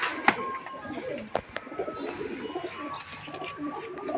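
Pigeons cooing softly at a pigeon-flying tournament loft, with a few sharp clicks and brief calls over a low background murmur.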